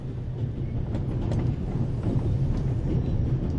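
A train running in the video game The Raven Remastered, a steady low rumble with faint rhythmic rattling, continuous and moderately loud.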